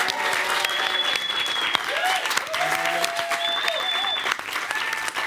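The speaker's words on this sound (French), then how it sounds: "On peut l'applaudir s'il vous plaît." A game-show studio audience applauds a replacement contestant, dense continuous clapping at full strength throughout, with faint whistles and cheers mixed in.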